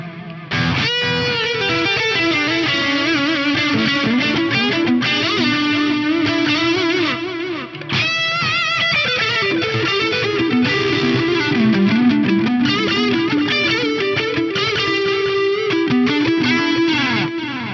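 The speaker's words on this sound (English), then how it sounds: "I'll let you hear the new echo plate type in there, which uses some of these features." Electric guitar played through the Fractal FM9's echo plate reverb, with a loud, distorted, effects-heavy tone that sustains across the whole passage, drops out briefly midway, then carries on with washy, lingering tails.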